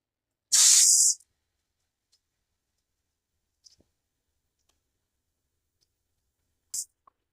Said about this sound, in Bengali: তেলটা গরম হয়ে গেছে এবার আমি পোস্তর বড়াটা তেলের মধ্যে দিয়ে দেবো